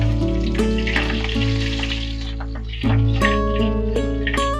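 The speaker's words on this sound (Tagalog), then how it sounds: "Kaya maglalagay na ako ng mantika. Lalagay ko na itong bawang." Garlic dropped into hot cooking oil in a pan, giving a steady crackling sizzle with small pops, alone without talk and briefly intensifying partway through.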